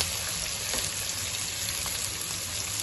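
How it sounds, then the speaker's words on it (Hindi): Whole cumin, black pepper and cinnamon sizzling in hot oil in a pan while making mixed vegetable rice, a continuous close, loud frying hiss with faint clicks of stirring, no speech. "इस मौके के ऊपर खड़े मसालों में इसमें जीरा, काली मिर्च, दालचीनी डाल देते हैं।"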